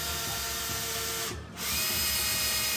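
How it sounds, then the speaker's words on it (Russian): Bosch cordless drill-driver boring into a furniture panel, a steady close whirring drone with a brief dip in speed midway before it picks back up, no talking. "здесь аккуратненько засверливаю прямо в центр"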